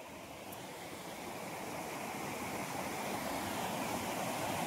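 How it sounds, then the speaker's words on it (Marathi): A small stream on farmland runs with steady babbling water, a continuous close rushing wash that grows slightly louder over the few seconds, with no voices. "पर्याचा झुलझुल आवाज पाण्याचा तुम्हाला आवडतं का?"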